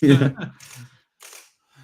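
A camera's shutter and flipping mirror give a few quick mechanical clicks, close by, mixed in among bursts of conversation.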